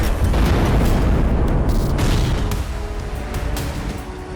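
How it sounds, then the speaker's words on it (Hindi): Missile, drone and rocket-launcher strikes hit Donetsk, Ukraine, producing a loud, sustained, rumbling roar of blasts close by. The roar eases slightly partway through and continues without pause. No voices are heard. "बेहिसाब मिसाइल और आत्मघाती ड्रोन यूक्रेन की सीमा में दाखिल होते रहे और अलग अलग इलाकों में धमाके होते गए"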